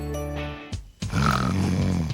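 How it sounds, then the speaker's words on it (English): A person snoring in a stop-snoring advert, with loud, deep rasping snores in a slow rhythm: one long rumbling breath, a brief pause, then a second, rougher snore. "Would you like to put a stop to your partner's snoring so you could go to sleep"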